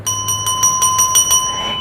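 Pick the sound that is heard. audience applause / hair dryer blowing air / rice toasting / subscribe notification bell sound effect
subscribe notification bell sound effect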